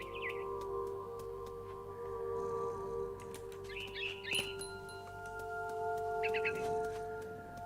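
Birds chirp in the video game What Remains of Edith Finch, sharp bursts of tweets sounding a few times over a steady ambient tone from the game's tree-top scene.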